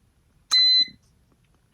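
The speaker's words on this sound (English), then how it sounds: "everything's gonna beep." One short, loud electronic beep sounds nearby, a clean high tone lasting about a third of a second amid quiet.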